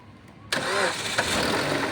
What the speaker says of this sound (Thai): เครื่องติดเงียบนะเครื่องนิ่ม